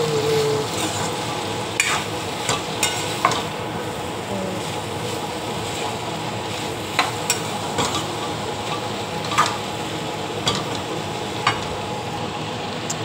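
Tondli (ivy gourd) bhaji is stirred in a pan on a gas stove, a steady low sizzle with sharp scraping clicks of the spatula against the pan at irregular intervals, no voices.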